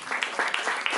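Audience applause at a poetry slam, a short burst of dense clapping from a crowd, moderately loud and fairly even, with no voices over it.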